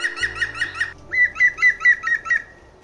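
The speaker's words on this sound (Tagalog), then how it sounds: "ang woodpecker na nagpapakain ng kanyang anak na nasa loob ng kahoy" A woodpecker feeds its young inside a tree hole, with a bright run of repeated, evenly spaced piping calls, loud and close, then a short pause and a second similar series of whistled notes.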